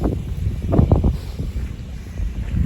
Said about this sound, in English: Still blowing a few gales or gusts